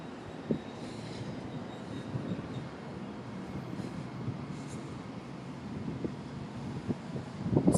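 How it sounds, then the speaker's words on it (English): A train rolls along the rails in a steady, low rumble with wind buffeting the microphone and occasional faint squeals, continuous throughout. "Look at the train."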